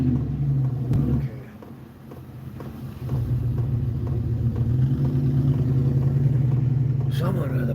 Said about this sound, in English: Someone with a big old Cadillac, beautiful car from way back, beautiful, but no reason for them to be coming in here and doing donuts.